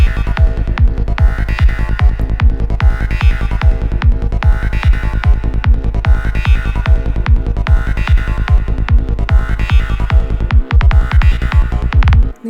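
Electronic psytrance pattern generated from MIDI in C Phrygian dominant, with a loud, driving repetitive bass pulse and dense steady synth notes looping throughout, ending abruptly.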